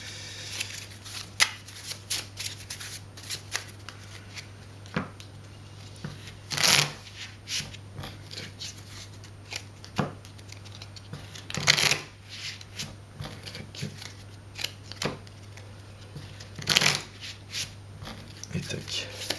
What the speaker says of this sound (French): du coup, je suis obligé de mélanger le deck.